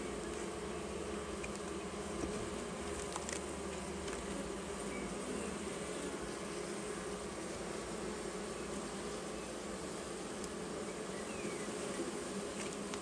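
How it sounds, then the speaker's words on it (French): Honey bees buzz at an apiary hive, a dense continuous drone of many insects close by, steady throughout with no talk. "Tu vois la solidarité quand même des abeilles."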